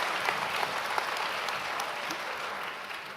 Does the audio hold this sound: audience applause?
yes